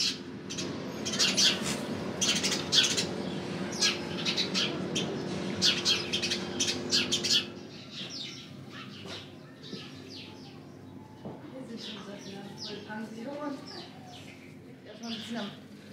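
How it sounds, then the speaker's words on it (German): Sparrows chirp and squawk in busy overlapping bursts at a village farm attraction, loud at first and then thinning to scattered calls, with people talking underneath. "Wie süß hier mit den Spatzen und so."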